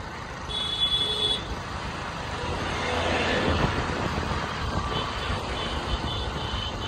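A long queue of cars and other vehicles crawls along a crowded road near the Gawli Dev bus stop. Engines rumble in a continuous wash of traffic noise, with a faint distant toot.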